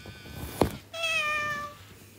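A single clear, drawn-out electronic meow from an animatronic Little Live Pets toy kitten, tonal and synthetic, following a brief mechanical clunk, close and fairly loud.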